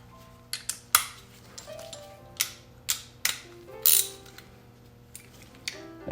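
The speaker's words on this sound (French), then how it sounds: "On y va avec une douille 5 millième." A ratchet fitted with a 5 mm socket turns the front brake caliper bolts on a Yamaha FJR 1300 motorcycle, giving about a dozen distinct, close clicks spaced irregularly, with quiet gaps between them and no voices.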